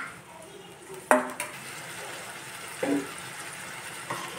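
Food and onions are stirred in a pan, with a few scattered clinks and scrapes of the spoon over a soft background hiss, close by and fairly quiet.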